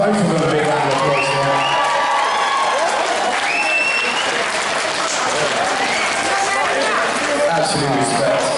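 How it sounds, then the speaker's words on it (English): Loud, sustained applause from a large crowd at the Komedia comedy venue in Bath, with cheers and whoops rising over the clapping throughout. "Give both of them a big round of applause."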